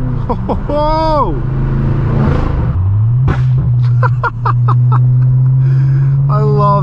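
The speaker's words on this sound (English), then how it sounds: "Love the bangs on this car" An 800 hp manual BMW M6 Gran Coupe with a loud exhaust rumbles under an underpass, letting out a run of sharp popping bangs over a deep steady drone, while people inside laugh and whoop loudly.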